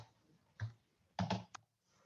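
Keys clack on a computer keyboard in a few short quiet bursts with gaps between them, close and dry, no voices.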